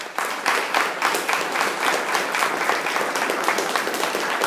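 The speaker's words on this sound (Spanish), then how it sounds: "¿Cuánto da un aplauso a esa gracia?" A church congregation applauding, dense steady clapping from many hands filling the room for several seconds, loud and continuous without speech over it.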